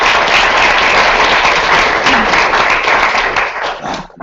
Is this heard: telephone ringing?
no